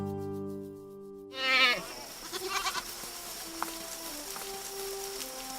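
Goats on a Hells Canyon ranch bleat several times at a moderate distance, in short wavering calls over a low outdoor background, after an earlier steady tone stops.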